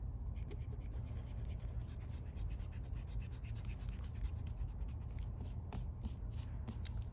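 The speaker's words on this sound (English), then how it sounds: "And then we can erase our excess." An eraser rubs excess pencil lines off paper in quick, rhythmic back-and-forth strokes, soft and close in a quiet room.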